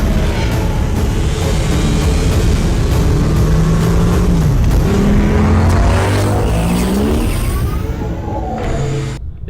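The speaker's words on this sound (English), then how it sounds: "It sounds like a Tron bike when you put your foot down" A BMW i8 hybrid sports car accelerates hard, its synthesized electric-style engine note rising and sweeping in pitch with layered tones, loud and close throughout with no talking.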